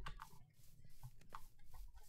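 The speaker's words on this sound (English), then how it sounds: "Oh, chicken." A Minecraft chicken clucks in short, soft bursts, several quick clucks scattered over a couple of seconds amid faint game background sounds.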